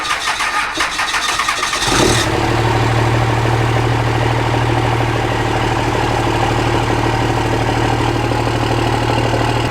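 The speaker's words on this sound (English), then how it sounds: "We'll be able to hear what it sounds like with just idling." A cold Cummins diesel truck engine, which has a large ship horn attached to its exhaust, cranks briefly, fires and settles into a loud, steady, close idle with a deep constant rumble.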